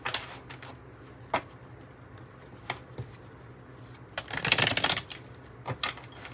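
Tarot cards are shuffled and handled close up, with soft riffling bursts and scattered taps and flicks, including one longer, louder shuffle, and no talking.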